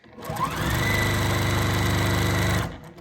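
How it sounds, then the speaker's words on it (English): A sewing machine runs steadily while stitching binding onto a quilt, a close, even mechanical whir that starts, holds for about two seconds and stops. "And continue sewing"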